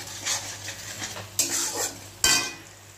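Masala with spice powder fries on high flame as a utensil stirs and scrapes the pan, a soft sizzle punctuated by two sharp metallic clanks, close and without speech.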